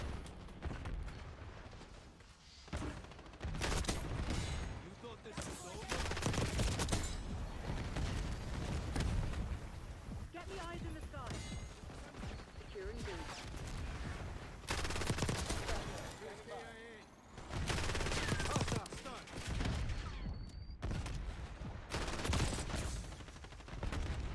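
Rapid gunfire from Black Ops 6 multiplayer, a game: repeated bursts of automatic shots and booms in loud clusters, separated by short quieter gaps, with a voice heard faintly in places.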